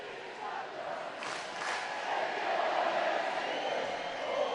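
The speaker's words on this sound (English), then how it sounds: "that brings the Nottingham crowd to life" A Nottingham Panthers ice hockey crowd in the arena stands during a playoff game, a broad wash of cheering and chanting that swells gradually and stays steady at a moderate distance, with faint commentary voices underneath.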